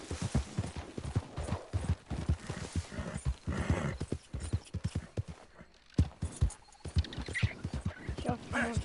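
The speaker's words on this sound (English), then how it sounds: "See how much faster this horse is?" A horse gallops in the Red Dead Redemption video game, with rapid, continuous hoofbeats close up that keep a driving rhythm throughout and briefly ease before picking up again.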